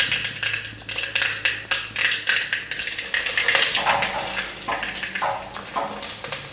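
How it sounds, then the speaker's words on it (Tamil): Curry leaves drop into mustard seeds spluttering in hot oil in a clay pot for pirandai chutney, giving a loud, dense crackle and sizzle with quick sharp pops and bursts of spitting throughout. "கடுகு நல்லா பொரிஞ்சதுக்கப்புறம் கருவேப்பிலை போடலாம்."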